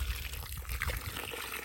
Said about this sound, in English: You let that water go down into the hole.